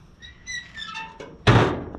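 A door on a Volkswagen rally Bug swings shut with a single loud thunk near the end, preceded by faint squeaky tones, close and alone with no talking.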